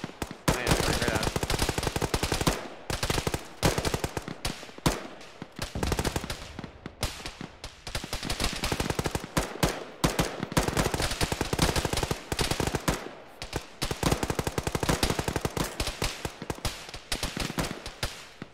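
Arma firefight: rapid bursts of machine-gun and rifle fire crackle loudly and almost without break, with short gaps between volleys and the sound staying close and dense throughout.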